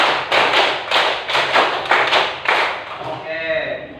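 Hand claps counted out in a classroom clapping game, about eight sharp claps in a steady rhythm, close and fairly loud, with children's voices mixed in.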